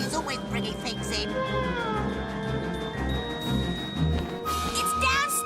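A cartoon cat meows and yowls in drawn-out, wavering cries over a busy animated soundtrack with music, mixed with other voices.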